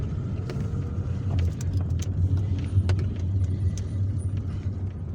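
Car driving through the streets of Algiers on a two-way street, with a steady low engine and road rumble throughout, plus faint passing traffic and scattered small clicks and rattles.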